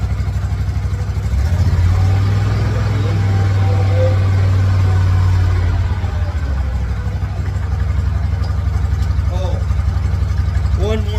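A Walker T25i riding mower engine runs at a steady idle, a close, loud mechanical drone with a brief rise in pitch partway through, while a person talks over it.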